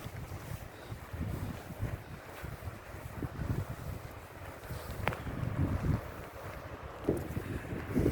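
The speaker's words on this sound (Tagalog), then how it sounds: "And it's windy." Wind blowing steadily across an outdoor hiking trail near Ben Nevis by Steall Gorge in the Scottish Highlands, a low buffeting rumble against the microphone with occasional stronger gusts.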